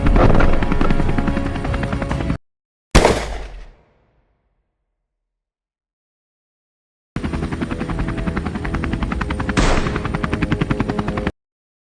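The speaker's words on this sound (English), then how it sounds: "Engines roared as every helicopter lifted off in unison" Several helicopters lift off together, their engines and rotors roaring loud and continuous with a rapid chopping pulse; the roar cuts off, leaves a long silence, then returns just as loud.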